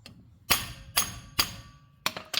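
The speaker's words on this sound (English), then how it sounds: "But then you take a hammer" A hammer strikes a bolt on a race car four or five times, with sharp metallic whacks spaced unevenly, the last two coming close together.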